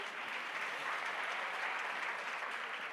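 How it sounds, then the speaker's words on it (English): Audience at a We The Women event applauding steadily, a dense, even wash of many hands clapping with no pause for the full length. "Go ahead and clap."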